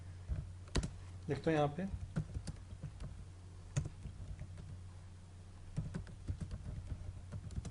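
Keystrokes on a computer keyboard while HTML code is entered, a string of light clicking taps in uneven bursts, close and fairly quiet, with someone speaking Hindi briefly over them.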